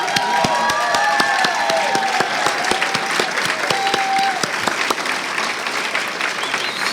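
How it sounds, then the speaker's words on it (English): A large audience at a Stan Talks 2023 event breaks into sustained, dense applause, steady and loud throughout with a few scattered whoops and voices mixed into the clapping. "can we just give the first of many rounds of applause for you?"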